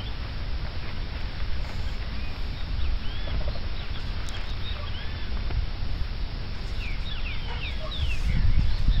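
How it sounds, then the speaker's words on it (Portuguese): Bright phrases of a saltator songbird whistle faintly over a steady broadband hiss of outdoor noise, repeating at intervals without any talking. "Esse que tá cantando aí é o Trincaferro."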